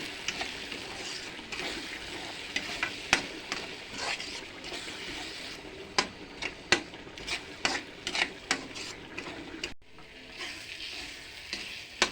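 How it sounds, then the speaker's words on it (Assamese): Spice paste with turmeric being stirred and fried in a pan for an Assamese fish curry: a soft sizzle under repeated scraping clicks of the stirring utensil, with a brief pause before the frying resumes. "মছলাখিনি পূৰা ভজা হৈ গ'ল।"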